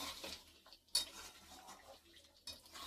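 Yogurt is stirred into chicken curry in a pot: soft scraping and a few light metallic clinks of a spoon against the pot, close and quiet, with one sharper knock near the start.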